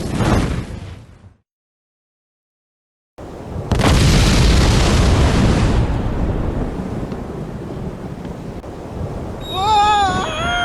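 In Monkey Island 2: LeChuck's Revenge, a bomb goes off as a loud, booming explosion after a short silence. A long rumbling roar follows and fades, and a warbling parrot-like squawk comes at the end.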